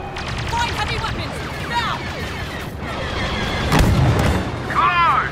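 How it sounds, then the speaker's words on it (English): Booming explosions from detonators in Star Wars Battlefront II and bursts of gunfire-like blasts mixed with swooping synthetic effects, one heavy blast standing out near the end of the clip. "More detonators. More explosions!"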